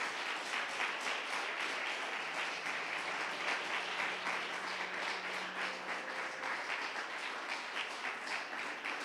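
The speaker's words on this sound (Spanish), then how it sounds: "Dele un aplauso grande a su Dios." A church congregation applauds during a Sunday service, with sustained, dense clapping from many hands filling the room evenly for the whole stretch.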